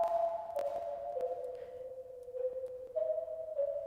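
A faint synth tone processed through a modulation effect with the depth raised in Reaper, wavering and slowly sweeping in pitch, quiet and without any voice.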